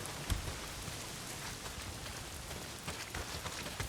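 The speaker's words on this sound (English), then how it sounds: "Well, not if it's pissing down rain." Steady heavy rain pours down in the open-world game Days Gone, a dense continuous hiss of drops on surfaces with a couple of soft low thumps, no voices present.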